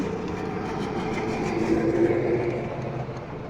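A train rolls past near a railway station bridge on a winter morning, a continuous rumbling roar with rail clatter that swells slightly in the middle, heard up close without talk.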